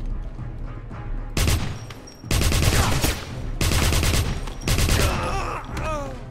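Gunfire emptying a magazine in the 2009 Wolfenstein video game, several loud rapid bursts of automatic fire with short pauses between them, close and punchy.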